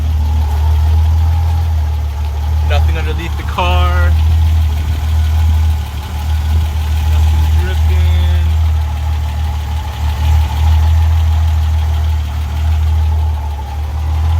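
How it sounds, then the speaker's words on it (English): A car engine, just fitted with a Mishimoto oil cooler, idles steadily throughout with a low, constant rumble, while someone speaks briefly over it. "So I got the motor running now."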